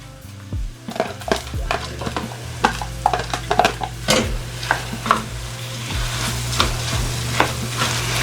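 Three cups of rice being stirred and fried with tomato paste in a pot for Southern red rice: a spoon scrapes and knocks against the pot in irregular strokes over a soft, continuous sizzle.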